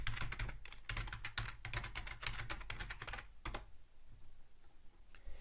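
A password being typed on a computer keyboard: a quick, close run of clicking keystrokes for about three seconds, then one last pair of taps before the room goes quiet.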